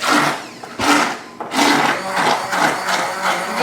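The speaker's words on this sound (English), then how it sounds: "You think I blended it enough?" A kitchen blender whirs as it purées cauliflower, running loud and steady in several bursts with brief dips in pitch and level between them, no one speaking.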